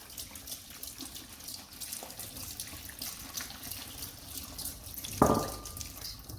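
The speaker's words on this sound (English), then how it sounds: "So we're turning on our cold tap and we're going to rinse them very well." Cold water runs steadily from a kitchen tap as fruit is rinsed in a colander, a continuous hissing stream with a brief clattering splash near the end.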